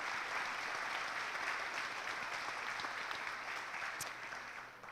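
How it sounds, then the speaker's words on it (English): Steady applause from an event audience at a county education gathering, honoring a high school jazz band, a dense even wash of clapping that stays full throughout and tapers slightly at the end. "Let's give them a round of applause."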